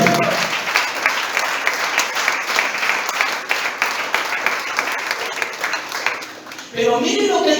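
A church congregation applauds in a sustained, lively burst that gradually tapers, then a voice cuts in near the end.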